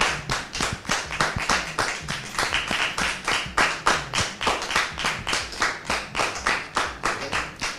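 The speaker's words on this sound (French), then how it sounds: "Merci de le recevoir sous vos applaudissements." A television studio audience claps in steady rhythmic unison, each clap sharp and distinct at an even pace, filling the room at full, constant volume with no speech over it.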